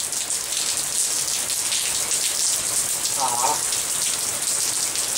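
Rain falling outdoors, a steady hissing patter of drops on surfaces close by, with a child's brief vocal sound partway through.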